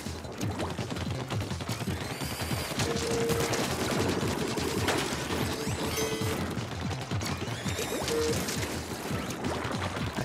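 Ink shooting and gameplay effects in the video game Splatoon during an Octo boss fight, heard as a dense continuous rattle of rapid shots over busy game music.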